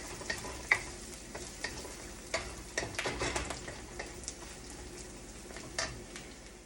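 Curry leaves and spices hit hot oil in a frying pan, crackling and popping in sharp irregular bursts over a soft steady sizzle, close and fairly quiet, with no talking.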